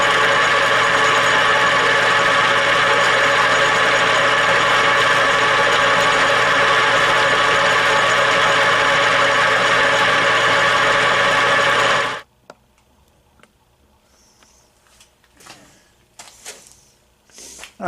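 A metal lathe finishing a thread-cutting pass runs as a loud, steady motor drone for about twelve seconds, then shuts off abruptly, leaving quiet clicks and light handling noises.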